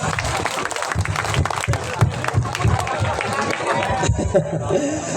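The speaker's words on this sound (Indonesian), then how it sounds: "tepuk tangan buat Mas berdua" Applause and crowd noise at an indoor gathering in Mesuji, brisk clapping mixed with chatter and some cheering, with voices talking throughout.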